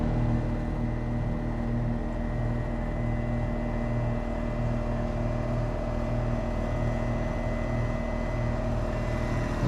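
Tractor engine running steadily on a rural property in light snow, a constant low idling drone with a faint humming whine, close and unbroken for the whole stretch with no talk.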